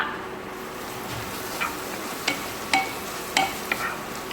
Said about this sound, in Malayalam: ആവശ്യത്തിന് ഉപ്പ് ഇട്ടിട്ട് നമുക്ക് നല്ലോണം വഴറ്റിയെടുക്കുക